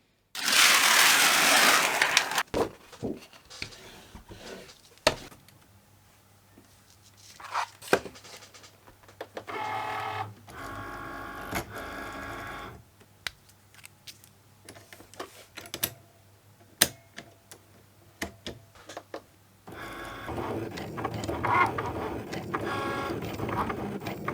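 A Cricut cutting machine drawing a gift tag with a loaded pen on a mat, giving intermittent mechanical ticks, whirs and motor runs with quiet gaps between, moderately close and without talk.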